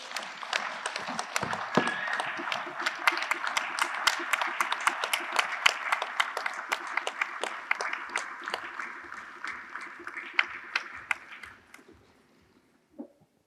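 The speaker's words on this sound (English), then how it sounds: "would you please give all the commission members a rousing round of applause for some fantastic work" An assembly audience at a jewellery industry general assembly claps for the commission members, a steady round of applause with distinct individual claps that carries on for about eleven seconds before tapering off, with a few stray claps near the end.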